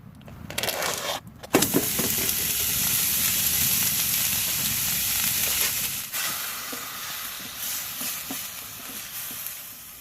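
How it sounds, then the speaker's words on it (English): Ground sirloin patties cook in real butter in a pan at a stealth campsite, a steady close sizzle and hiss running for several seconds with a few scrapes and clatters at the start. "I should go ahead and cook those sirloin patties"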